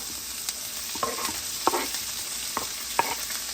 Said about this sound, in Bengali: বেশি করে রসুন পেঁয়াজ দিয়ে একটু ভাজবো আগে